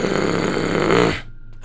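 A voice imitates a wild beast's snorting breath: one loud, rough, sustained growl-like exhalation held for about a second, then cut off into near silence with a faint breathy trace.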